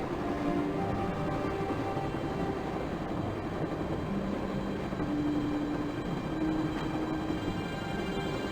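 Train running in the video game Broken Sword: The Shadow of the Templars, a steady rumbling rail roar with faint tonal whines, constant and moderately loud with no talking.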